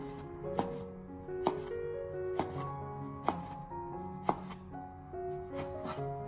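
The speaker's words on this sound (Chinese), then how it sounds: "最后再将番茄改刀切成番茄丁。" Knife dicing tomato on a cutting board in a kitchen, a steady series of sharp close chops spaced about a second apart, alone without talk.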